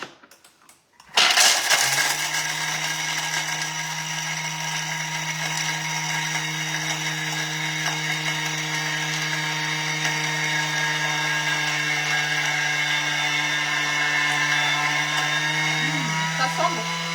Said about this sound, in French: on va venir mixer tout ça. Donc, cette fois, ça va faire du bruit puisque on a les noisettes à l'intérieur.